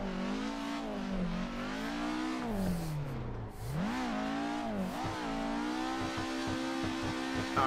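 Racing video game car engine revving hard through a clutch kick, a loud, continuous throaty roar with pitch sweeping down, then surging up and wavering through rapid throttle blips, close and alone without talk.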